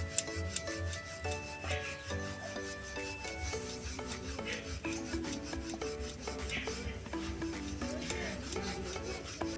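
A rolling pin works aloo paratha dough with a rhythmic rubbing and rasping on a board, repeated strokes heard close up beneath steady background music.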